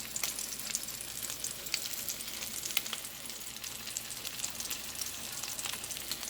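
Pot roast seasoned with rosemary and parsley browns in hot grease on a stovetop, giving a steady close sizzle and crackle with scattered pops throughout, no voices.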